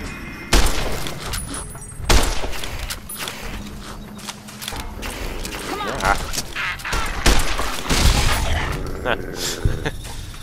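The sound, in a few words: gunshots in VATS in the video game Fallout: New Vegas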